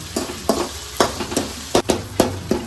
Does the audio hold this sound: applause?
no